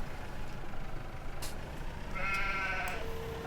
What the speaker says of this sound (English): if I can get through the crowd of sheep